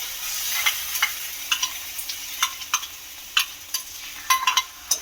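A ladle stirs a spice mixture into frying pea and gram-flour batter in a pan, giving irregular scraping clacks of metal against the vessel over a soft, constant oil sizzle, close and with no voices.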